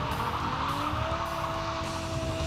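A 2006 BMW M5 with its 5-liter, 40-valve V10 and 8,000 RPM redline sings a loud, steady high-revving howl with a rising tone, close and continuous, with no talking over it.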